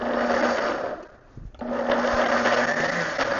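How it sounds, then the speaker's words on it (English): A kitchen blender pulsing chopped ingredients for carne asada fries, a loud whirring grind in two short bursts separated by a brief pause, close by and with no talking. "we're going to put this in our blender and just pulse it a little bit"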